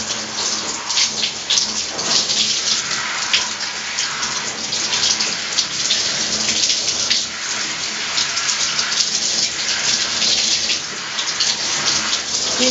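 Water running steadily while hair is rinsed after a tea rinse, a close, even rushing splash that continues without a break and with no talking.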